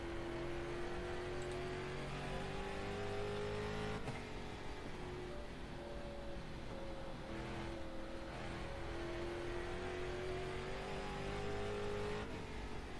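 Street stock race cars in iRacing at South Boston run in a pack, a steady loud engine drone rising and falling in pitch as they battle for the lead, with no talk.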